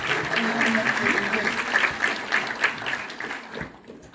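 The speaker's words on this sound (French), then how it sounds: "Vous pouvez les applaudir parce qu'ils sont dans la salle." A theatre audience at an African TV series night in Paris applauds the cast seated in the hall, a steady wash of clapping that slowly thins toward the end, with voices mixed in.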